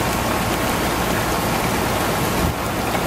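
Hail falls outside in a dense, steady hiss and patter, loud and continuous throughout, with no voices.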